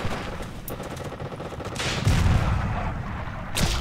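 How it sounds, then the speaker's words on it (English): Enemy gunfire in the video game Forgotten Hope 2 at Gold Beach, a steady run of rapid shots building into heavier, louder bursts after two seconds, with a sharp crack near the end. "They're shooting at me and I don't want them to."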